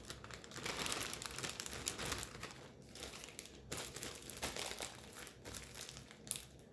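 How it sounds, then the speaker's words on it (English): Plastic Ziploc bags crinkle and rustle as they are handled and swapped, a close, fairly quiet run of crackling and crumpling with short pauses between bursts. "So we're going to put that into a bag, and we are going to Ziploc that quick."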